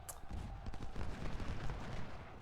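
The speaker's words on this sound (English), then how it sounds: "I think this artillery is involved in the" Artillery fire in a Civil War battle video game, with dense, continuous rumbling booms and overlapping gunfire rolling steadily throughout at a constant loud level, with no talk.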